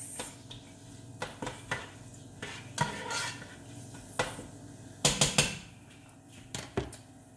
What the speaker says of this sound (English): I'm going to start stirring this up in the pot